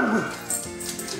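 A dog in a home kitchen lets out a few brief whimpers and yips close by, mixed with a person's voice.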